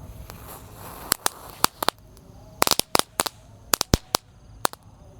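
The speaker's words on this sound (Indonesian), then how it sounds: "di sini ada telur dino pratek. Kita nyalakan 1 pak sekaligus." A pack of telur dino firecrackers goes off in a ragged string of sharp, loud pops, some single and some in quick clusters, over a low background hiss.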